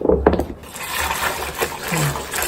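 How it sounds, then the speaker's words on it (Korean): Boiled malt water (yeotgireum) poured from a container into a pot for gochujang, a steady splashing pour that fills the space for a few seconds, loud at the start and settling into a softer stream, with no talk. "엿기름물 달인 거를 부으면 돼요"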